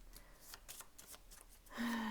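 Playing cards being shuffled by hand indoors, a series of quick riffling flicks in a steady rhythm, close and fairly quiet, ending as a brighter tone rises at the end.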